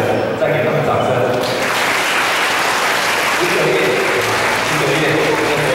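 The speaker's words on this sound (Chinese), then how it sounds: "再给他们掌声" Applause from the audience at a primary school graduation ceremony, a broad wash of clapping from a large crowd, steady throughout and mixed with amplified voices and music from the stage.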